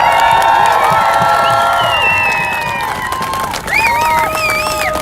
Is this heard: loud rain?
no